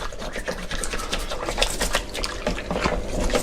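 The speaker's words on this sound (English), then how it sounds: "using my toothbrush just to scrub all over each piece of the miniature" A toothbrush scrubs a resin miniature in water, making quick, soft, repetitive bristle strokes with light splashing, close and fairly quiet.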